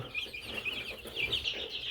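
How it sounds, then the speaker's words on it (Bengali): Tiger breed chickens cluck softly in a brief stretch at a poultry farm, with high chirpy chick peeps over a low background hum. "এই হচ্ছে আমাদের বোর্ডিং করা টাইগার মুরগির বাচ্চা"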